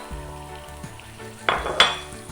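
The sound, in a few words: chopped peppers sizzling in a pan with browned onion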